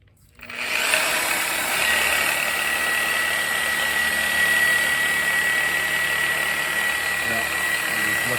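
A buffing pad runs steadily against a car taillight, a continuous whirring machine drone that starts abruptly and holds even and loud throughout, with no talk over it.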